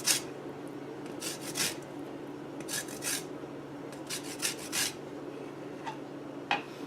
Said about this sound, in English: I'm going to zest a little bit of the lime in here.